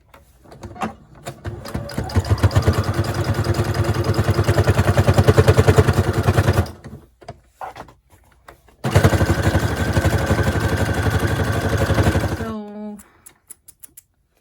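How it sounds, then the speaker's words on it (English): A sewing machine runs straight stitches through fabric in two long, steady bursts of rapid, even needle clatter, close and fairly loud, separated by a brief pause. "I'm not going to move the sewing machine out of the way because I just want to get this part sewn in."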